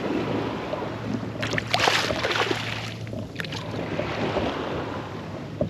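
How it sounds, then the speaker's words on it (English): A motorboat engine drones steadily nearby on saltwater, its low hum carrying over sloshing, choppy waves and light wind noise. "Boat just passed by, of course."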